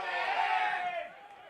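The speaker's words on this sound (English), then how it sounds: "Crowd wanting a high tackle." A rugby league crowd at a first grade finals match roars in a sustained, fairly loud shout demanding a high tackle penalty, fading slightly toward the end.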